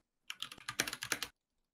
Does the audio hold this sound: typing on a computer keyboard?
yes